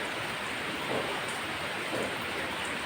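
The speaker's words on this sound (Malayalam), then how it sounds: "മഴയാടോ, ഇവിടെ മഴ കേട്ടോ." Rain falling outdoors, heard as a faint, even hiss of drops that stays steady throughout with slight swells, with no voices over it.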